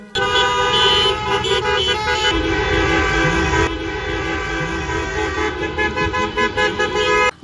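A long motor rally column of cars passes through a city with a police escort, engines rumbling while horns blare continuously, several honks overlapping loudly throughout.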